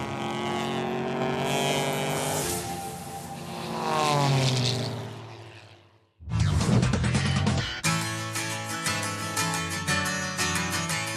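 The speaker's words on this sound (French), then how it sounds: "Nous avons d'un côté une Morgan Aero 8 et de l'autre un biplan Pitts" A Pitts biplane flies alongside a Morgan Aero 8 car: a loud propeller engine drones and swells past, then after a brief dip a sharp, close roar of engine noise with pulsing surges takes over.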